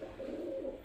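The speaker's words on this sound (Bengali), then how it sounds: "উপরে একটা পায়রা বসে আছে।" A pigeon perched overhead gives a single short, low, soft coo. It is faint and heard alone.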